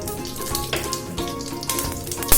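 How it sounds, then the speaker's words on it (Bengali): A dry red chilli tempered in hot mustard oil with five-spice in a kadai crackles and sizzles loudly and close, a dense continuous hiss with bursts of spitting for a couple of seconds, no voices. "আর একটা শুকনো লঙ্কা আমরা ফোড়ন দিলাম"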